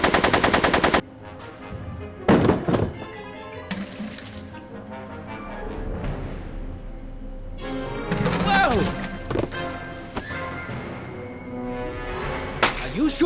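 A movie shootout with a burst of rapid machine-gun fire at the start, then scattered loud gunshots and impacts mixed with shouting and score throughout.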